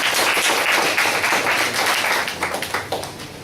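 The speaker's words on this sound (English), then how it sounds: "let's all congratulate our icebreaker speaker by a big round of applause" A crowd at a Toastmasters club meeting applauds in a dense, steady wash of clapping that thins out toward the end into a few scattered individual claps.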